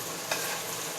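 Pork carne guisada cooking in a pan, a steady, even sizzle and frying hiss with one brief stir-like scrape near the start, heard close and alone.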